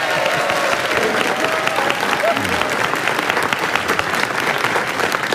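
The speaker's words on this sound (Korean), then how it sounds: "김은지 기자에게 박수 부탁드립니다" Sustained applause from a large studio audience greets a reporter at a live Korean news broadcast, a dense, steady clatter of many clapping hands holding at full level throughout with no pauses.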